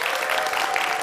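An audience at a TEDx climate conference applauding, a dense, steady burst of clapping from many hands throughout, loud and even with no pauses.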